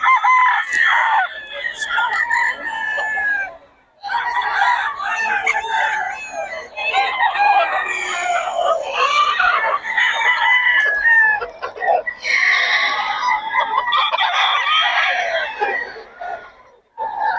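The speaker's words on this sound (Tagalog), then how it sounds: "Ang gulo ng mga manok dito." Roosters and chickens at a game farm crow and cluck loudly and almost continuously, several birds overlapping close by with only brief gaps.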